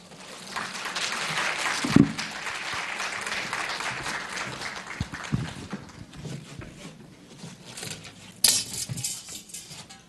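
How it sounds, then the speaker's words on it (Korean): Lecture audience at a medical college clapping to welcome a guest laughter speaker, sustained applause from a room full of people that swells, thins, then rises again near the end. "나오실 때 뜨거운 박수로 환영해 주시면 고맙겠습니다"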